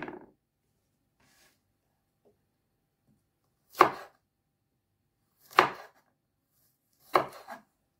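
Garlic is cut with a knife on a board: three separate, crisp chopping strikes spaced a second or two apart, with near silence between them.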